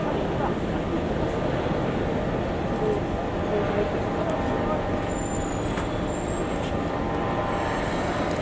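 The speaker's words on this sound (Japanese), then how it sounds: "向こうからまた別の電車が入ってきました" A Keikyu line train pulls slowly into a station, a steady broadband rumble and hiss of wheels and motors that fills the whole stretch at constant loudness, with faint high squeals near the end.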